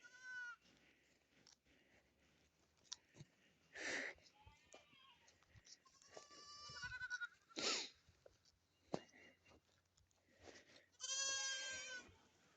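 Goats on a farm bleat in several loud, wavering calls spread across a quiet outdoor scene, with softer rustles and snorts between them and occasional distant-sounding movement.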